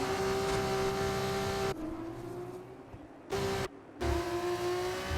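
Race cars in a racing video game, one leaving the pit lane, drone with sustained engine whine that cuts out and returns as cars pass, loud and close with no talk.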